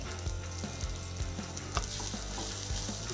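A spoonful of ghee sizzles and crackles steadily in a hot pan during frying of a banana-flower dish, with occasional soft stirring knocks under a low constant hum.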